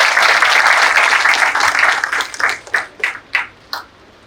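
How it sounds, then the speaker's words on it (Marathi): An audience at a university felicitation event for transgender community members applauds in a loud, dense burst that thins out into a few scattered, separate claps before it stops. "जोरदार टाळ्या वाजवायच्या यांच्यासाठी"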